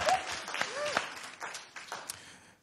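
Audience applause at a live music performance, a fairly faint scattering of claps and cheers that thins out toward the end, with whistles and voices mixed in.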